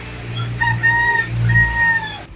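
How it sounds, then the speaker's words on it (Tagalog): A rooster crows nearby during a night spearfishing outing in the Philippines, one drawn-out call of about two seconds, loud and clear with no talk over it. "Ayun, may manok na naman."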